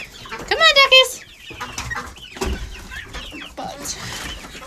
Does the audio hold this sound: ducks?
yes